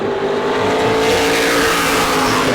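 A loud super late model race car engine revs at a high, steady pitch, roaring continuously up close during qualifying at New Smyrna.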